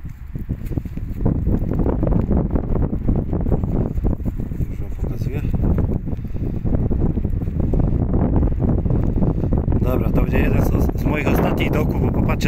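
Strong, steady wind with snow in sub-zero cold buffeting the microphone throughout, a loud continuous roar with gusty fluctuations.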